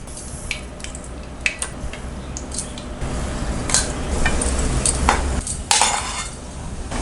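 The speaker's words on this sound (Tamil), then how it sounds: "இப்போ நம்ம ஜீராவில் அப்படியே போட்டு இப்படி நல்லா மிக்ஸ் பண்ணி விடுங்க" Fried gulab jamun are mixed into sugar syrup with a utensil, giving soft wet squishes and scattered clinks against the vessel, growing busier toward the end and ending in a louder scrape, with no talk.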